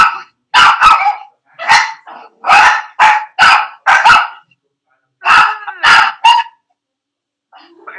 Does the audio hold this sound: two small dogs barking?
yes